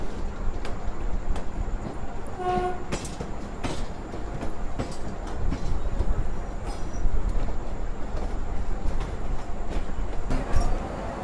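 An Indian Railways train nears Ambala Cantt Junction at night, rumbling steadily along the rails with rhythmic clacking wheel beats and occasional sharp squeals, a continuous close, noisy ride.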